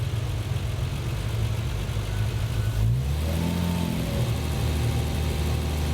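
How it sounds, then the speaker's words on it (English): A Triumph TR6 engine converted from carburettors to fuel injection idles steadily, then revs up partway through and holds at a higher, rougher pitch, close and loud with no talking. "But now let's raise a little bit the RPM."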